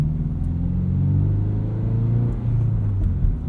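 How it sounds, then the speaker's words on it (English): A 2022 Subaru BRZ with its FA24 engine and MRT street/race axle-back exhaust drones steadily from inside the cabin while cruising, a loud, continuous low rumble with slight rises in pitch. "It is interesting to hear how different this FA24 sounds compared to the older FA20 in the previous generation cars."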